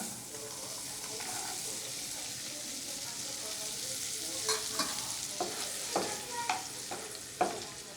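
Small chopped carrots hit a hot pan for chicken soup and fry with a steady, close hiss, while a utensil stirs and scrapes in short, irregular strokes over the sizzle.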